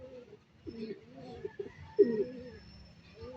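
Racing pigeons cooing softly outdoors during a training flight, a few low warbling coos rising and falling, with a louder coo near the middle against faint background noise.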